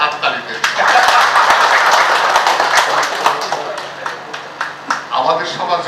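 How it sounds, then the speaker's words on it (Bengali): An audience claps for Amar at a book launch event, a burst of hand-clapping that swells and then thins out, with someone speaking over and after it. "অমরের জন্য একটা হাততালি দেন।"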